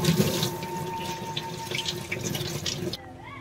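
Pomegranate seeds rinsed under a running kitchen tap, a steady close splashing flow of water that stops abruptly near the end, leaving a faint quiet tail with no voices.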